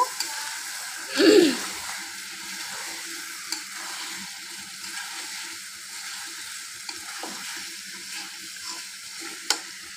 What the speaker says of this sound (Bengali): দেখেন মাংসটা আমার কি সুন্দর তেল ছেড়ে দিয়েছে। এটা আমি কিছুক্ষণ এখন কষিয়ে নেব।